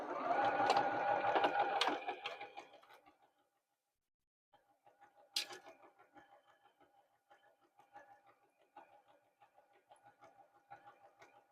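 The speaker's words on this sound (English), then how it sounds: "we're going to sew that down" A sewing machine stitches down the wide sashing on a quilt-as-you-go flag quilt, a close whirring run that stops, then quieter intermittent clicks and short stitching bursts follow.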